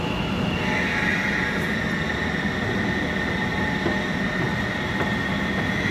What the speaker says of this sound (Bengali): শিয়ালদা যাবার গাড়ি এসে গেছে